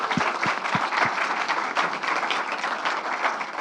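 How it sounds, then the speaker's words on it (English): A conference audience at a services engineering congress applauds the panel: a few distinct claps open it, then a full even wash of clapping that carries on steadily to the end. "I forgot a round of applause also to the panel now"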